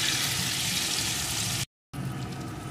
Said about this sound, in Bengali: এখন আরও কিছুক্ষণ ভেজে নেব।